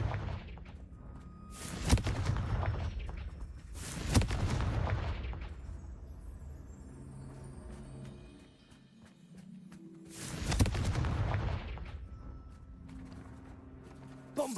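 Confringo fire-blast spells explode in Hogwarts Legacy, three heavy booming blasts a few seconds apart with rumbling tails over a low ambient game background.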